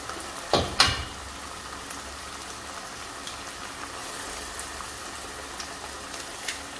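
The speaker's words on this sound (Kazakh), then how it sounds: "Енді қазір осының үстіне жұмыртқамызды салатын боламыз." Eggs are added to onions frying in a pan for Kazakh-style shakshuka. A couple of sharp cracks and splats at the start give way to a soft, steady sizzle of frying.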